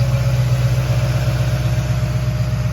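A 1955 Chevy 3100 truck's 350 V8 engine idles with a deep, steady, loping rumble, close and loud, its even pulsing throb continuing without change.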